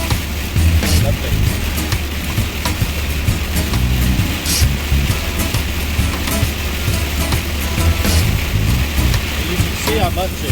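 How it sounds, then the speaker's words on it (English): Heavy rain drumming steadily on a vehicle driving north through France, a dense continuous hiss with road rumble beneath and talking over it. "we're just heading north up France, and it's raining heavy"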